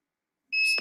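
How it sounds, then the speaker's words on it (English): A single short electronic beep from a Fokoos Odin-5 F3 3D printer, a clean bright tone that starts abruptly after silence and cuts off within a fraction of a second. "Oh, I heard a beep."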